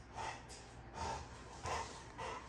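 A large XL lilac tri bully dog snorts and breathes heavily up close, with four rhythmic, raspy breaths about half a second apart and no talking.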